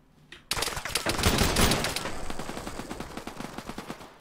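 A loud burst of rapid rifle fire in ARMA 3 breaks in after a brief quiet moment, then continues as a steady run of quicker, lighter shots that gradually thin out.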